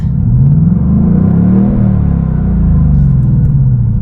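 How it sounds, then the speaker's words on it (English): A 2024 Ford Mustang GT, seventh generation, revs its engine in a loud, close, deep rumbling sweep that rises and falls, alone without talk. "when I rev it"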